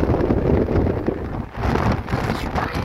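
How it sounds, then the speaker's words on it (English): Strong wind roars against the microphone on the open deck of the cruise ship Carnival Spirit in a constant, heavy rumble with gusts rising and falling. "It's real windy."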